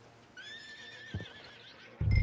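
A horse in the video game Red Dead Redemption 2 lets out a long, wavering whinny, loud and close, followed by a couple of dull hoof thuds.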